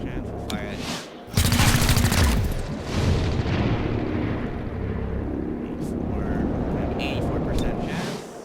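Squad firing weapons in XCOM: Chimera Squad, a dense crackling volley that erupts loudly, then further shots and booms ring out amid continuous battle noise while someone talks over it.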